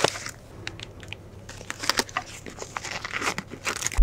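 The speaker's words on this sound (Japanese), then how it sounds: "慌てて荷物をしまいます。" Bags and belongings crinkle and rustle as luggage is packed away in a hurry on a seat of a Kaiface Kanko long-distance bus, with close plastic crumpling and soft knocks throughout.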